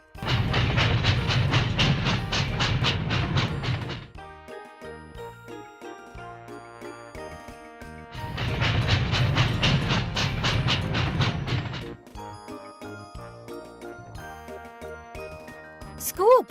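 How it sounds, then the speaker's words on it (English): A toy steam engine train runs in two long bursts of rhythmic chugging and rattling, with tinkling, chime-like tones between the bursts. "Steam engine."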